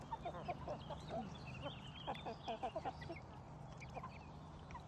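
Chickens and turkeys in a backyard flock, a few close clucks and gobbling calls in short bursts over a low steady hum, with scattered quieter bird sounds between them.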